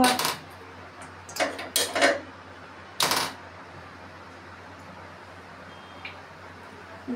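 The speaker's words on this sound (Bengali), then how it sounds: "কড়াই দিয়েছে চুলার পরে" A metal kadai set down on a stove, a few sharp clanks and knocks at the start, a louder clatter near the middle, then quiet.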